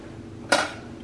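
A pressure cooker holding lentils is shut, giving a single sharp metallic clack of the lid with a short ring, alone in a quiet kitchen.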